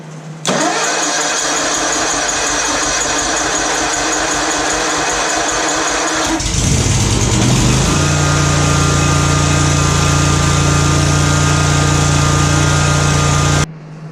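A Ferris IS1000 zero-turn mower engine cranks and catches, then settles into a steady, loud, close idle that runs on before cutting off near the end.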